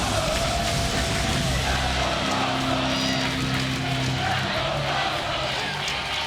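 A TNA wrestling arena crowd roars loudly and continuously after a Rhino finishing move, with yelling and cheering layered over a steady din.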